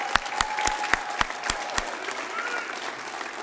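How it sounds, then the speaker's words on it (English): Audience applause at a school awards ceremony honoring the 2015 Arcadia Valley boys basketball Dream Team: a roomful of steady clapping with several sharp, close claps standing out in the first half, continuing evenly to the end. "Big round of applause for the 2015 Boys Basketball Dream Team."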